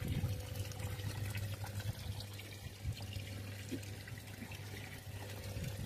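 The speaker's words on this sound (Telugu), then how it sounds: "ఇప్పుడు వాటర్ ఫుల్ అయింది చూడండి" Water pouring and trickling steadily into a terrace pearl-farming tank, quiet and close with a faint background hum, no voices.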